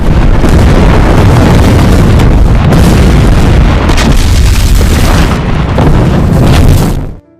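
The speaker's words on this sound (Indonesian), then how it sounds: "Kini serangan artileri yang diluncurkan lebih tepat sasaran." Artillery fire in a wartime battle scene produces loud, continuous booming explosions and deep rumbling that run nearly unbroken for seven seconds, then cut off abruptly.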